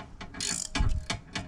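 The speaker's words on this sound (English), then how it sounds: "I have a Newton meter torque wrench" Ratcheting clicks from a small Newton meter torque wrench snugging down an oil filter cap on a 2020 Ford Explorer ST, several short bursts of pawl clicks at close range with no talk.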